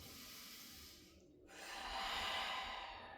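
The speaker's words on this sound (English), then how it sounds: "Inhale. Fully exhale." A long, soft exhale during a yoga session, an airy breath out that fades, pauses, then swells again into a fuller rush of breath, close and steady with no talking.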